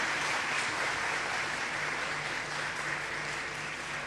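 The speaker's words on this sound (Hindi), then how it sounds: "और जोरदार तालियां होनी चाहिए।" A hall audience at a government credit-camp event for women's self-help groups applauds to welcome the Chief Minister, a sustained, even roar of clapping heard from some distance, with a faint steady hum beneath and no speech.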